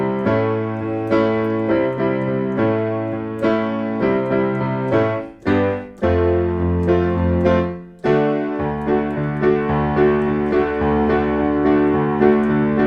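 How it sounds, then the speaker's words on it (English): Piano plays the funky instrumental intro of a song, with quick rhythmic chord stabs, a few short pauses and low bass notes, loud and alone. "The song starts out with the instrumental section"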